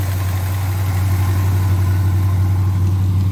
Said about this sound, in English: This thing's set since 1996. Listen to that engine.